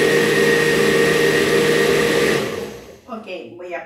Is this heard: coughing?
no